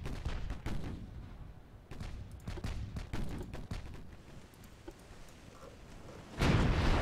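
Heavy 6-inch naval guns firing in a Dreadnoughts-era warship battle game, a ragged series of booming shots and sharp reports at moderate distance, ending in a loud rumbling swell.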